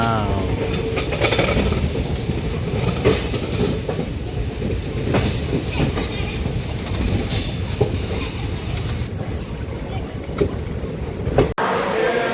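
A superfast express train rumbles and clatters steadily into Guntur railway station, wheels clicking over the rails with a brief squeal, loud and close, with faint talk underneath.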